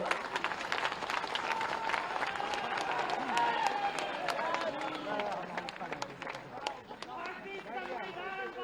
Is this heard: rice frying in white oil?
no